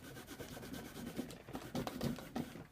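A rubber stamp being scrubbed on a Stampin' Scrub pad makes a faint, close rubbing and scuffing, quick back-and-forth strokes with no talking.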